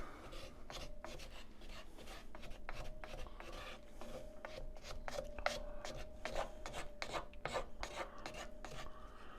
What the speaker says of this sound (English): I'm using a wooden paddles because I'm constantly scraping the bottom here so nothing is stuck.